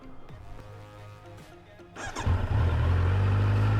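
A 2022 Kawasaki Z900 50th Anniversary motorcycle starts and settles into a steady, loud idle. Quieter mechanical noise comes first, then the engine catches and keeps running close by with no talking.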